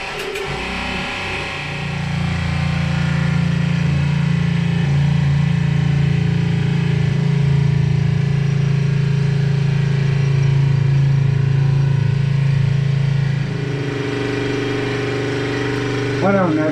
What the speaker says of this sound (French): C'est le dessal. Donc on va fabriquer de l'eau douce, puis on va le mettre en route.